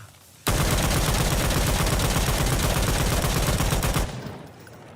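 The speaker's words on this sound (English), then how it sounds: "a final test simulating shooting someone without any stamina" G3A3 battle rifle from Insurgency Sandstorm firing a sustained full-auto burst of about three and a half seconds, loud and dense with rapid even shots, then cutting off into a faint ringing tail.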